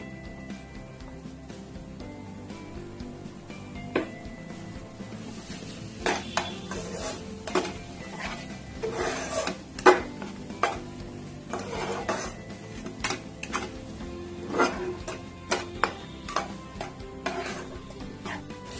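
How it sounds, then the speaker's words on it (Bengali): Cashew and almond paste going into a pan of cooked-down spices for a prawn malai curry, then stirred, giving soft sizzling under repeated scraping and clattering of a spatula against the pan. "কাজু বাদাম আর আলমন্ড বাদাম আমি পেস্ট করে রেখেছি, সেটা আমি দিয়ে দিচ্ছি।"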